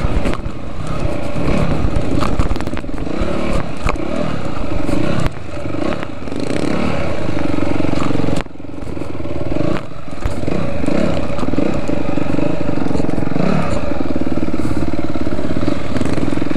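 Dirt bikes ride trails at Kahuku in Hawaii, a loud, close, buzzing engine note that rises and falls with throttle changes, with clattering over rough ground.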